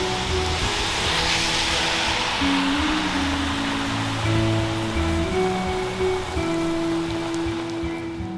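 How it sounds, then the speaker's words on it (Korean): Steady rain falls on a wet day at a maritime university campus in Mokpo, South Korea, a continuous hiss that fills the whole stretch alone, with a low hum and traffic-like rumble underneath. "여전히 또 비가 오네요 또."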